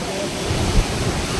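Steady rain hisses in a dense, even wash of noise outdoors, close and moderately loud with no clear breaks.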